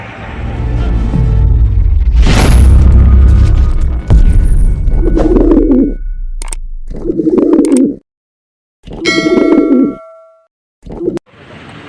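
Racing pigeons released at a lap race in Tacloban, with a burst of wingbeats and rustling near the start, then pigeon coos and scattered bird calls in short bursts separated by gaps of near silence.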